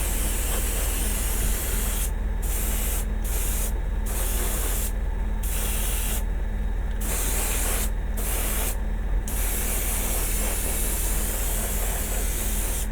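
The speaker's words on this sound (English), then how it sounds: "if you mist it on, it gives the paint something to adhere to." Aerosol spray paint misted onto a Godzilla vinyl model kit, a loud steady hiss broken by several short pauses between bursts.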